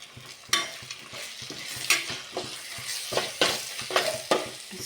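A rice and egg mixture fries in a pan while a spoon stirs it, giving steady close sizzling punctuated by sharp scrapes and clacks against the pan.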